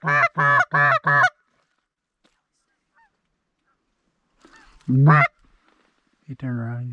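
Goose honking outdoors during a warm-weather January goose hunt: a quick run of four loud honks, a pause, then a single strong honk and a longer final call, close and clear.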